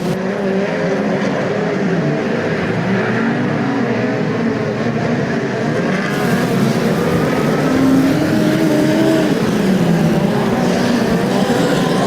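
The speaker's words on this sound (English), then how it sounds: "Michael Kendall still well and truly in command of the 60th New Zealand midget car title" Midget race cars roar around Ruapuna Park during the New Zealand midget car championship, a loud, sustained engine howl heard from trackside with rising and falling revs and no voice over it.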